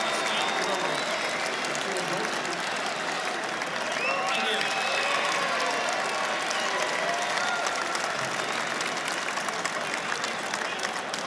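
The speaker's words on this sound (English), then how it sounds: "this parochial Lang Park crowd let these players know that they've really enjoyed this game of football" A Lang Park crowd at the third State of Origin rugby league match in 1990 claps and cheers in a dense, sustained roar of applause after the game, with a commentator's voice faintly mixed in.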